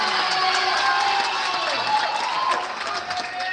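Crowd cheering and applause at a men's A final cricket match between SACD and Northerns, a loud, steady wash of clapping and cheers for a few seconds that eases slightly toward the end.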